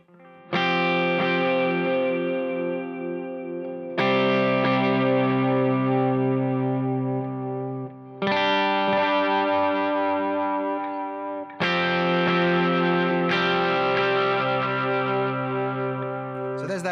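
Electric guitar run through a Strymon Timeline digital delay pedal, several sustained chords each ringing out with layered repeats and a shimmering, slightly driven tail, four separate strums spaced a few seconds apart, close and loud with no talking.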